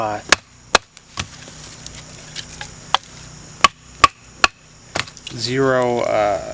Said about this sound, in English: this isn't the best grind to be batoning with